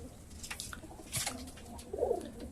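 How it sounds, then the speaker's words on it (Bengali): Pigeons in an open loft during hot weather, giving a few soft coos at moderate distance against a faint outdoor background. "আমার কবুতরের অবস্থাগুলো দেখেন এই গরমে"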